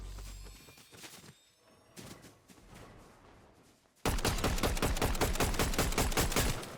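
Rapid bursts of gunfire in Fortnite zero build, a sparse opening of scattered shots giving way to a loud, sustained automatic barrage with tight repeating cracks.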